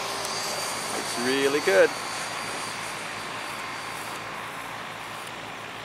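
MiG-17 90mm model jet flying at half throttle, a steady distant turbine whine running throughout while someone speaks briefly over it.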